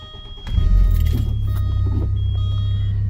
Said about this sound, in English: Let's start up the car, by the way.